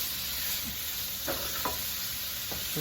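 Steak seasoned with black pepper cooking in a pan for Philly cheesesteak, a steady close sizzle and hiss with a few faint knocks of a utensil, no talking.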